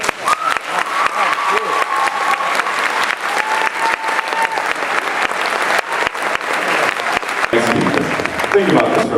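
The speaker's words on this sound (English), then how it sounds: "Give yourselves a round of applause." An audience at a high school graduation for the class of 2017 claps loudly and continuously for several seconds, with crowd cheering and voices mixed in, and talk rising near the end.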